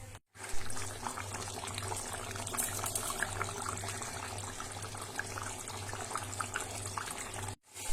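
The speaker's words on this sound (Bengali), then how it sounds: "জল দিয়ে দিয়েছি এখন জলটা ফুটুক" Chicken curry broth with potatoes boils in a pot, giving a steady, close bubbling hiss over a low hum that runs almost unbroken between two brief silences.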